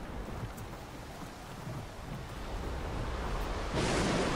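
A thunderstorm with rain on the water in Don't Starve Shipwrecked, a steady hiss of rainfall with a low rumble that swells louder near the end, no talk.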